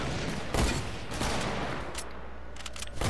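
Sharp sniper gunshots in a video game cracking out a few times over steady loud battle noise, close and punchy, with no talk.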